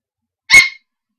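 A single short dog bark, close and fairly loud, standing alone against silence.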